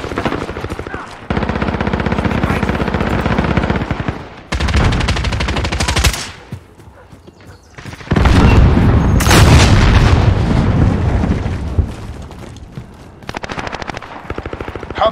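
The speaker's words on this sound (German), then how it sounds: "Feindliches Geschütz aktiv." Enemy artillery and gunfire in the Call of Duty Modern Warfare video game, loud bursts of rapid automatic fire and heavy booms coming in waves with brief lulls, and a game voice speaking among the shots.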